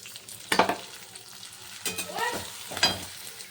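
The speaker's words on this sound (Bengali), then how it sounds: "এবার এই যে গোবিন্দভোগের চালটা ভেজে নেবো।" Gobindobhog rice fries in oil in a pan and is stirred around in three separate scraping bursts, with a soft sizzle in between. A faint voice murmurs under the sound.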